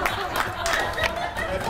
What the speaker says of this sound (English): a few Grand Chute residents clapping over there